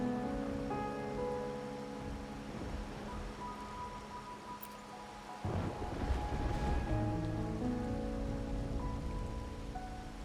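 Steady rain patters across surfaces in the Wuthering Waves game, a dense hiss that swells louder midway, heard alone with no voices.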